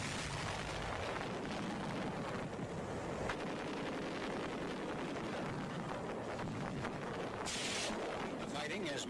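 Wartime combat field recording from the Battle of Okinawa, with dense continuous rumbling blasts and crackling bursts like demolition charges and rifle fire, loud and noisy throughout with wind-like roar and no clear talk.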